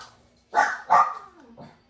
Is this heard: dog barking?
yes